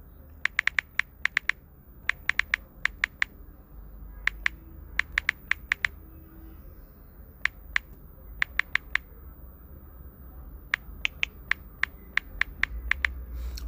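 Fingers tap on a phone keyboard while writing quiz questions in the YouTube app, giving sharp, close clicks in quick bursts separated by short pauses over faint room noise.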